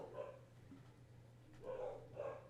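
Dogs bark indoors, a cattle dog among them: two or three faint yips and barks, then a pause, then a pair of louder barks at the end, with no talking.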